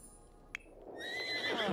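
A horse in The Sims 4 gives a bright, rising neigh that swells into a whinny, following a single short click, with no talking.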